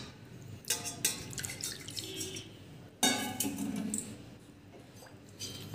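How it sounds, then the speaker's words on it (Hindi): Water is poured from a cup into a bowl of spiced gram-flour batter with chili flakes to thin it, in two splashing bursts with trickles and drips between them, close by. "अब इसमें पानी डाल के इसका एक पतला सा घोल बनाएंगे।"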